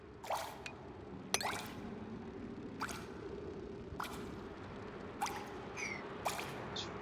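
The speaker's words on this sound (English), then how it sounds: "Fertilizer is leaking." Fertilizer leaking in Oxygen Not Included, a series of soft whooshing drip and squish effects spaced about a second apart, quiet and alone.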